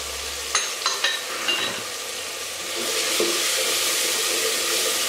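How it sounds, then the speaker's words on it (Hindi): Aloo gosht with green chillies sizzles in a pan, a few sharp stirring clinks at first, then a steady, rising hiss of frying that fills the rest of the clip. "अब मैं इसको अच्छे से भून लूँगी"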